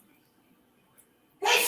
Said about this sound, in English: Sister in the background sneezing.